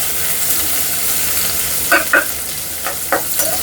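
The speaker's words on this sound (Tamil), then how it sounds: "ஸோ இப்போ நாங்கள் வெங்காயம் போடுவோம்." Onions hit a hot pan and fry with a steady hiss, broken by a few sharp stirring scrapes and clinks near the end.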